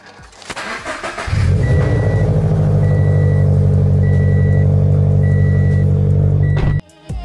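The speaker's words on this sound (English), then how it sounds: "Cold start." A Subaru BRZ cold-starting: a brief starter crank catches into a loud, high, steady idle close by, which holds for several seconds before cutting off abruptly.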